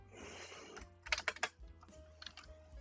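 Keys clattering on a computer keyboard, a quick burst of several sharp clicks followed by a few softer taps, close and quiet in an otherwise still room.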